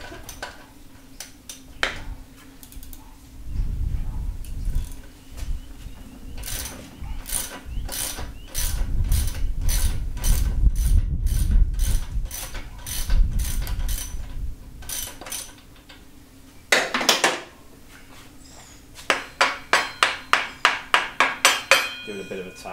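A ratchet wrench loosens the crimp bolt on a Harley Sportster front end, giving close bursts of rapid metallic clicks with rustling handling noise between them and a fast run of clicks near the end.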